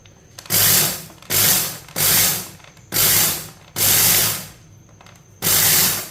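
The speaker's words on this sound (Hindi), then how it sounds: "मसालों को मशीन में डाल लेंगे। अब इसे ग्राइंड कर लेंगे।" An electric grinder coarsely grinds spices for raw mango pickle in six loud whirring bursts, each about half a second to a second long and separated by short pauses, with no talking.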